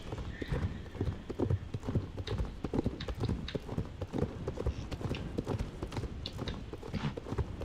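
Horse hooves clip-clop steadily on a hard surface in the video game Star Stable Online, several animals walking at an unhurried pace, with soft background murmur.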